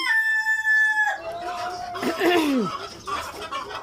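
Egyptian Fayoumi chickens, a close rooster crow rising and falling, then clucking from the flock, loud and near.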